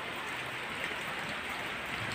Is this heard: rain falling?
yes